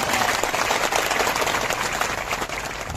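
A crowd at a village gathering applauds Singadas Bapu with dense, sustained clapping that fills the space without a break.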